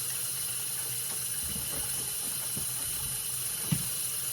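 Steady hiss of water pouring into a small mini washing machine, constant and fairly loud, with a few faint knocks and no talking.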